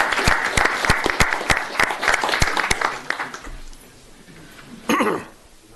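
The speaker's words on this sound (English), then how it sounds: "And I will applaud it" Applause at a township board meeting: a burst of clapping from the room for several seconds, fading into quieter murmurs and shuffling, with a brief louder rustle near the end.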